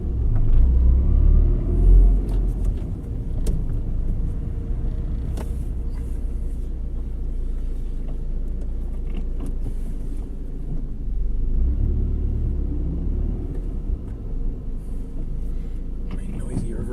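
A Toyota Tacoma with a Flowmaster 40 series Delta Flow muffler rumbles steadily at low speed, a deep continuous exhaust drone with a slight swell near the start.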